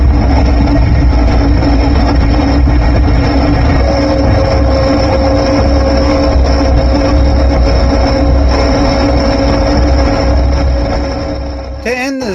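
A mud mower engine runs in gear through a custom low-geared 5-speed MST, a loud, steady, close drone with a constant whine, alongside heavy wind or rumble, tailing off at the end.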